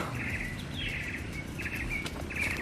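Birds chirp in a lush mountain forest on Mt Lorokan in Pacet, Mojokerto, with repeated short bright calls scattered over a steady, faint outdoor background hiss, distant and unaccompanied by talk.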